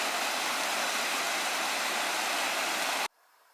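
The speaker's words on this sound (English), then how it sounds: "A beautiful waterfall down below." A waterfall down below on the Maple Pass Loop trail in the North Cascades roars as a steady, dense wash of white noise, then cuts off abruptly to near silence just before the end.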